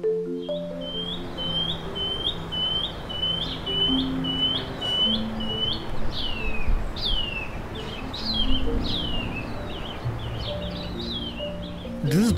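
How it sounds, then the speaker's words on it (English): Shining cuckoo, a small greenish bird, sings a long series of rising whistled notes in native town-belt forest, each note repeated steadily and growing stronger and more slurred toward the end, over a low background hum. "This is the song of the shining cuckoo"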